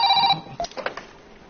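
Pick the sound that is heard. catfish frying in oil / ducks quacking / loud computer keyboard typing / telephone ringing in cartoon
telephone ringing in cartoon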